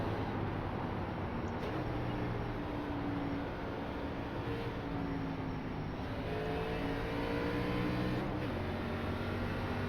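A race car engine at Darlington in the iRacing video game, a constant loud drone with pitch slowly rising and falling through gear and throttle changes, running steadily for the whole stretch.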